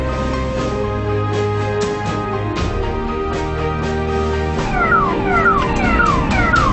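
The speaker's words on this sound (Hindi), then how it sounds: "ये देखिए ये अभी इमरजेंसी सायरन ऑन है।" An ambulance's emergency siren wails loudly and continuously in traffic, a steady tone shifting into a rapid rising yelp pattern near the end, with no talk over it.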